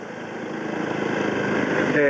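A Yamaha WR250R motorcycle engine runs steadily while riding along a compact winding road, a continuous near drone that builds slightly in level toward the end; a voice talks over it.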